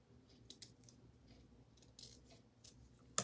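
Scissors snipping through ribbon while trimming the ends of a handmade bow: a handful of crisp, separate snips spaced irregularly, close by and fairly quiet, with a louder snip at the end and no talking.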